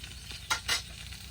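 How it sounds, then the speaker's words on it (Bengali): Soft sizzle of vegetables frying in a pan during village-style cooking, with two short bursts of louder crackling and faint stirring scrapes, quiet and close with no talking. "সবজি ভাজা হয়ে গেছে, এবার তুলে নেব।"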